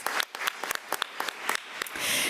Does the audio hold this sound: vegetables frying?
no